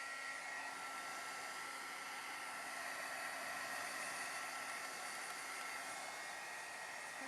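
A hair dryer blows on watercolor paper that has salt texture on it, drying the back of the sheet. The airflow is a steady, close, even rushing hiss that runs unbroken from start to finish with no talking.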